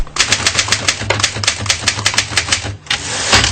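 An old typewriter being tested in a repair shop: rapid, sharp key strikes clattering close by in an uneven rhythm, about fifteen clacks with a brief pause near the end.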